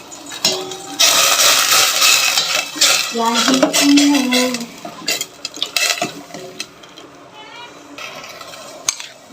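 A spoon scrapes and clinks against a pot as semolina is stirred into payasam, with a soft sizzle underneath, a faint voice and scattered clatter of utensils.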